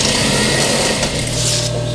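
A sewing machine stitches custom trim for an upholstered ottoman, running as a steady, loud, continuous whir with a low motor hum throughout.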